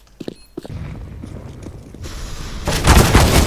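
Gunfire in the Counter-Strike game, a few sharp shots early on, then a dense rising burst of loud firing and impacts filling the last second or so.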